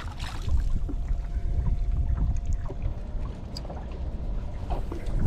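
A small boat moves in toward fishing docks, with a steady low motor rumble, wind on the microphone and water splashing nearby.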